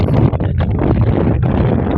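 Strong spring wind buffets the microphone out in a no-till wheat field, a loud, continuous, rumbling roar with no pauses and no voices.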